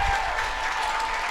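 Spectators at a Hahnville high school football game applaud, a brief burst of dense, moderately distant clapping from a crowd.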